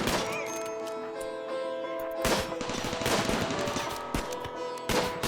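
Dense, continuous gunfire in the video game RimWorld, rapid overlapping shots and sharp cracks, a busy firefight that swells and thins without pause.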